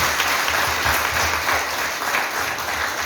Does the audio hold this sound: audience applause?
yes